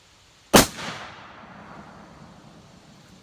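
Single loud crack of a Savage Axis .270 rifle fired outdoors at a shooting range, a sharp close blast followed by a brief rolling echo that fades away, with no talking.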